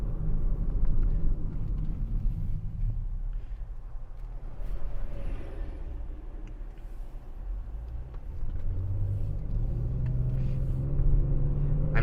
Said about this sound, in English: The engine, there's a nice grunt to it.